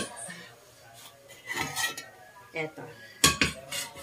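Metal cookware clanks and clinks on the stove as a pan is picked up and set down, with a sharp knock near the end and a brief spoken word.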